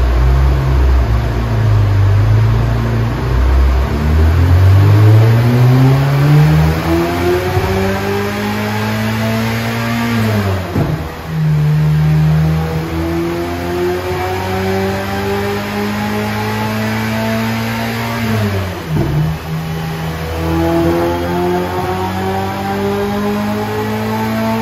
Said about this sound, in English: why don't we cut to the shots of the dyno pulls and then check out what this thing made